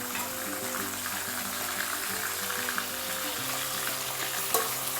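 Marinated mutton frying in a pan with onion for dry Diveagar-style mutton sukka, a steady broadband sizzle running throughout at moderate level, with low background hum and a faint clink near the end.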